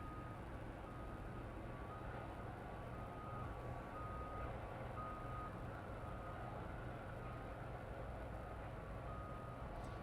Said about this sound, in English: RYANAIR taxiing off.